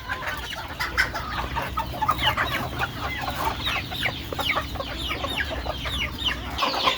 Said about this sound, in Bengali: মুরগিগুলো ছেড়ে দেওয়া হইলো।